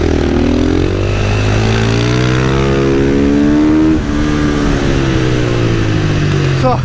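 A supermoto motorcycle on the Oschersleben race track during an IDM race, engine held at full throttle from onboard, loud rising and falling revs with gear changes, one brief dip mid-way.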